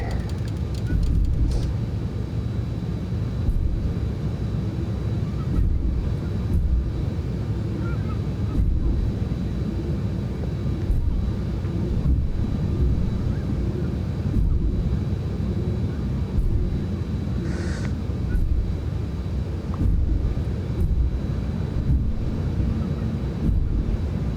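An airliner in Southwest Airlines Shamu special livery runs with its reverse thrusters on in the X-Plane 11 flight simulator, giving a steady, loud, low engine roar that continues without a break.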